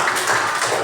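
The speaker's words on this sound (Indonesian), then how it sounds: "Tepuk tangan." A seminar audience breaks into a short burst of dense, even applause, many hands clapping together in a steady wash of sound.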